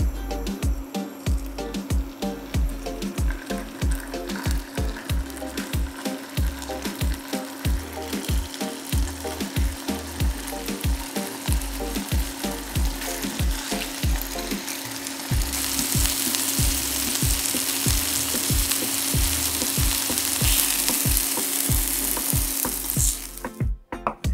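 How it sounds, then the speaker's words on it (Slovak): Chicken breasts fry in hot oil with a steady close crackling sizzle and a rapid, regular pattern of pops, growing a little brighter and louder toward the end. "Takže keď máme rozhriatý olej, pridáme kuracie prsia."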